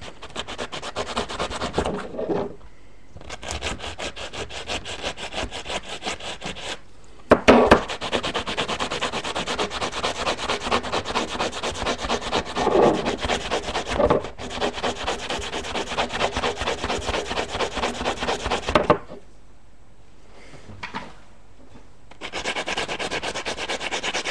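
Sanding a part from an AGM gas blowback M4 airsoft rifle, heard as steady, close scraping rubs in long continuous runs with brief pauses between passes.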